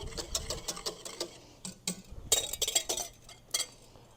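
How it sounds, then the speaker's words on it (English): A whisk beats an egg and milk custard in a pot on the heat, making rapid, irregular metallic clinks and taps against the pot, close and fairly quiet. "we cannot stop whisking until it is off the heat"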